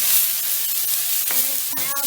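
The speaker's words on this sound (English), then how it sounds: "Now we add our onions." Onions hit a very hot pan for Peruvian tallarin saltado, a steady close hiss of frying that flares into sharper crackling sizzle near the end of the short stretch, with no talking.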